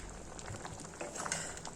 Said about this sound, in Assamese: বক বক বক বককৈ একদম উতলিছে, বগা হৈ গৈছে আঞ্জাখন।